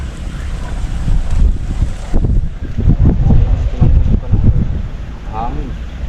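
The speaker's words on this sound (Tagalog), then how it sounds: "Hangin." Wind buffets steadily throughout, a rough, continuous rush with gusty swells, while people talk over it.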